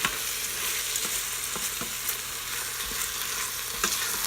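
Rice and onions sizzle in hot oil in an Instant Pot on the normal sauté setting, a steady close frying hiss with a few light stirring clicks.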